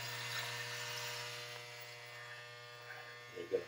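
Electric hair clippers drone steadily while giving a buzz cut, running close and continuously at low volume. A faint brief scrape or rustle comes near the end.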